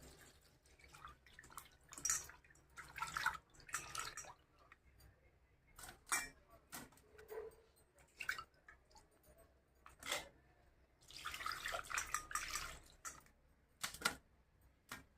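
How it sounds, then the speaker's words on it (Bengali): Rui fish being washed in water, with irregular close splashes, drips and wet squishing bursts coming and going, louder sloshing near the end. "মাছটা আমি এখন ধুয়ে নেব 3-4 বার।"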